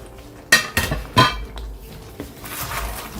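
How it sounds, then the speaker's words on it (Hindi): Fried shrimp tipped into a pan of sweet and sour sauce, with a few sharp clinks and clatters of utensil against pan in quick succession, then a softer clink and quieter stirring noise. "तो अब हम ये फ्राई श्रिम्प जो हैं इसके अंदर डाल रहे हैं,"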